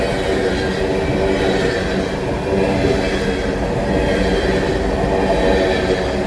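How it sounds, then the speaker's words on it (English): A long train rolls through a junction at night in Stockbridge, Georgia, a loud, steady rumble of rail cars that holds without a break from start to finish. "This is a long train."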